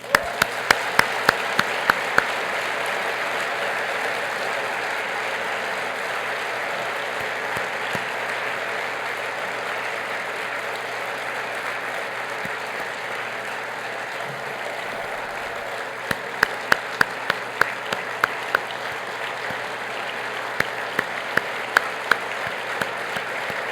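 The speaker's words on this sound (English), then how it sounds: "let's have a big round of applause and appreciation of these three heroes" A banquet audience at a Hall of Fame induction gives sustained, even applause for three honorees, dense clapping filling the room throughout with a few louder individual claps near the start and end.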